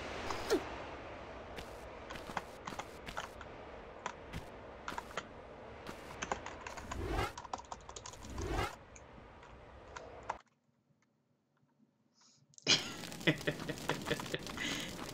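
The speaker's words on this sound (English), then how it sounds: "clacks on the keys are getting slightly louder every time" Computer keyboard keys clack in quick, uneven bursts of typing during Tomb Raider gameplay, close and fairly steady, with a brief near-silent gap before the tapping resumes.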